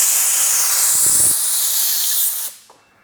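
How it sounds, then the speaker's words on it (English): Narrow metal-tip air blowgun blasting compressed air through the rail of a Dyna cutting system, a loud, close, continuous hiss that fades out near the end. "I got a little blowgun here. It's got a metal tip, narrow. We're going to try and blow the rail out"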